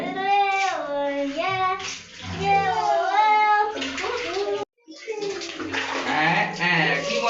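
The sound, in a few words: water splashing while bathing children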